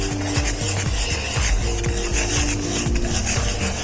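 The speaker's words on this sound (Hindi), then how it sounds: "जब तक ये गाढ़ा नहीं होता है तब तक हमें इसे ऐसे ही मिक्स करते रहना" A thickening sauce stirred in a pan on the stove: a loud, continuous scraping and swishing with a rhythmic pulse from the spoon's repeated strokes, close up.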